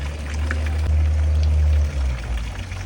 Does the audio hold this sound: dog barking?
no